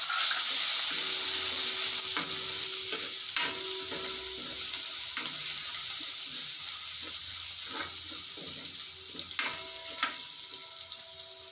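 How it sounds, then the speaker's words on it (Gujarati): Curry leaves, asafoetida and garlic sizzle in hot oil for a Gujarati potato curry. There is a loud, continuous frying hiss with scattered crackles and pops, and a few sharper clinks from a utensil stand out, with no talking. "મીઠો લીમડો, હિંગ, આપણે લસણ નાખી દઈશું."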